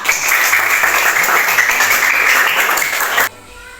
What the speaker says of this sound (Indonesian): Tepuk tangan untuk Carla